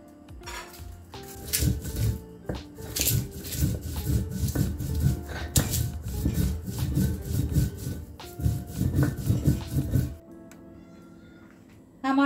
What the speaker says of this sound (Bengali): এখন আমি মরিচটা বেটে নিব।